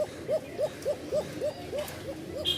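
A Rajshahi Giribaz pigeon gives a thin, high-pitched call, repeated in a steady run of short hoot-like notes close to the listener, with no talking.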